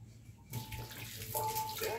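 Water lifted about 2.4 meters by a small 12V brushless mini pump gushes out suddenly and keeps splashing steadily, close by, with a faint tonal whine riding over the flow.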